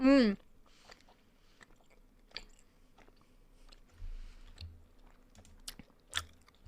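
Gum chewed close to the mic, with soft wet smacks and sticky chomps scattered through a quiet room, after a brief loud burst at the start.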